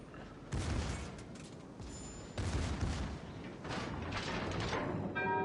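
A torpedo strike in World of Warships: Legends, heavy booming impacts and rumbling explosions rolling over several seconds, fairly close and loud with no talk.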